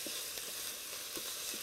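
Fresh minced ingredients sizzle steadily in a hot pan while being stirred, a continuous close crackling hiss with soft scraping accents and no talking.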